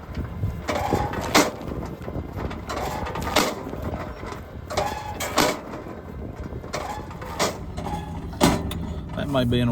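A truck-mounted cattle feeder dispenses feed in regular sharp clicks, about one a second, over the low rumble of an idling truck during a pasture cow check. A voice is briefly heard.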